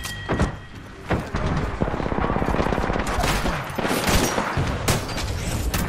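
Rapid gunfire bursts from the Apex Legends battle royale game, with dense repeated shots and sharp impacts throughout, loud and continuous.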